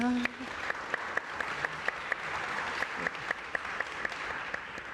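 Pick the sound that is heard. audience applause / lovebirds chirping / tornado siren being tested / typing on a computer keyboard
audience applause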